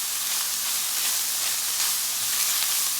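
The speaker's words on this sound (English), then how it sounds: "I just added the fish to the pan with about a tablespoon of coconut oil. I'm gonna add my onions." Fish and red onions fry in about a tablespoon of coconut oil in a pan, giving an even, continuous hissing sizzle with no distinct stirring sounds.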